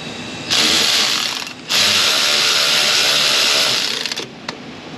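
A ratchet works exhaust manifold studs on a Ram 1500 5.7, loud close mechanical clicking in two long bursts separated by a brief pause, followed by a couple of short clicks.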